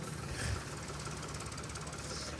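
A tractor engine idles low and steady with a rumbling drone and faint rattling knock, continuous throughout at moderate distance, at a gathering where people arrive by tractor-trolley.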